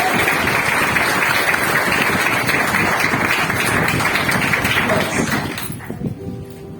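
A church congregation claps loudly and steadily as a dense, sustained roar of applause, which fades out near the end.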